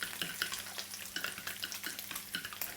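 A utensil beats egg yolks into a splash of whole milk in a bowl, rapid quiet clicking and scraping strokes in a fast irregular rhythm, faint and close with no voices.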